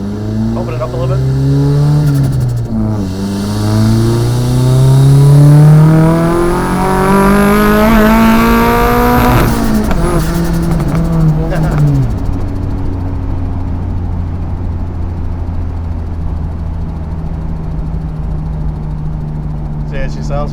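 A Nissan S13 drift car with straight pipe exhaust revving hard on a street run, loud engine climbing through rising pitch then dropping back to a rough idle rumble, with people talking inside the car.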